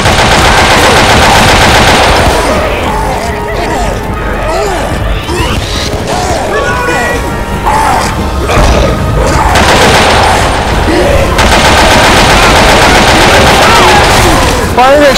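Heavy automatic gunfire and explosive booms from the zombie shooter Left 4 Dead 2, sustained and loud throughout with dense bursts and crashes, while players talk over the fighting.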